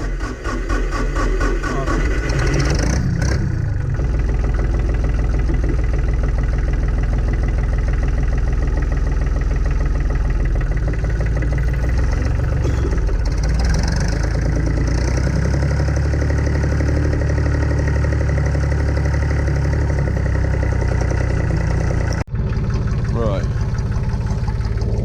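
A farm tractor engine runs at a loud, steady idle, droning with a constant rumble and faint knocking for the whole stretch before grass cutting begins.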